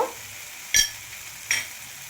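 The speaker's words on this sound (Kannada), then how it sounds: "ಮೆಣಸುಕಾಳು ಮೆಂತ್ಯ ಎಲ್ಲ ಫ್ರೈ ಆಗಿದೆ" Black peppercorns and fenugreek seeds fry in a pan with a faint, steady sizzle, broken by two quick stirring scrapes about a second apart.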